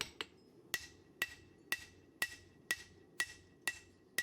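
A hammer striking a Serbian-style cleaver blade of 80CrV2 and 15N20 steel on an anvil while forging, about nine sharp, ringing blows at a steady, evenly spaced rhythm, close and clear.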